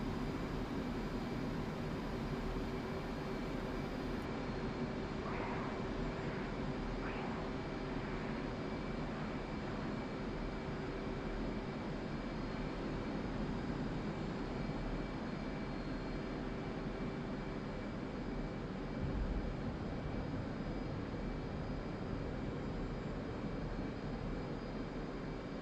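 An aircraft engine drones in the DCS flight simulator over the Syria map, heading for a low pass over Beirut International runway: a loud, steady, continuous roar from the cockpit with little change, no talking.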